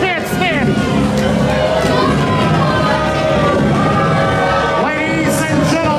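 A live wrestling crowd roars and jeers in disapproval after a steel-spike attack, a loud, dense wall of shouting and babble that holds steady throughout, with scattered louder yells rising out of it.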